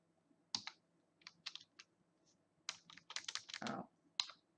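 Keys clack on a computer keyboard while commands are entered in Kali Linux running on Windows, with quiet, irregular bursts of keystrokes separated by short pauses.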